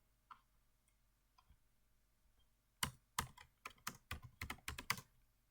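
Keys on a computer keyboard clack in a quick, close burst of typing after a few faint scattered clicks in a quiet room.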